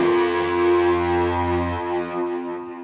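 Sustained synth tone sent through a bus of delay and reverb, with distorted harmonics; a loud, steady layered drone that thins and fades slightly toward the end, no voices.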